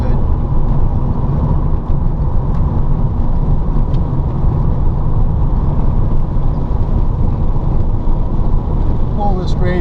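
A homemade electric conversion of a VW Beetle climbs a grade in third gear at high current, a steady low rumble of drivetrain and road noise filling the cabin, continuous and loud, with a faint whine near the end.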